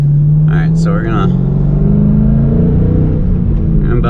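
A car pulls out onto a residential street and accelerates at about half throttle, the engine note rising steadily as a loud, close rumble that fills the cabin, with a voice talking over it briefly.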